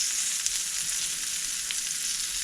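Muscovy duck breast sears in a hot pan while being basted, producing a steady, dense sizzle that holds at an even loudness, close up and uninterrupted, with faint occasional spatters and no voices.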